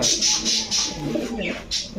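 Racing pigeons in a shop coo repeatedly, soft throaty calls close by with a few brighter chirps overlapping in an uneven rhythm.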